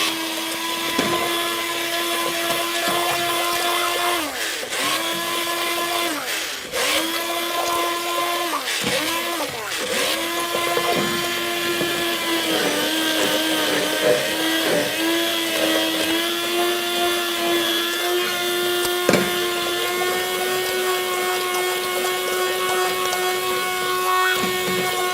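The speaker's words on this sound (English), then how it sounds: "keep the top of the blender, the head of the blender, underneath the liquid at all times" A stick blender whirs steadily through leek and potato soup, a continuous close motor drone with brief pitch dips and sloshing as it works.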